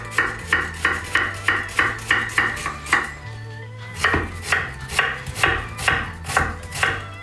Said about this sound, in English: we're just going to peel that, chop it finely, same with the celery